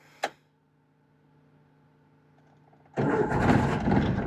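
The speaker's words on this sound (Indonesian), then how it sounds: "Namanya karbu biasanya kalau nyalain kan harus dikocok dulu gasnya." A 1991 Toyota Starlet XL with a manual gearbox and carbureted engine: one sharp click, a few seconds of near-silence, then the engine catches and runs loudly and close by.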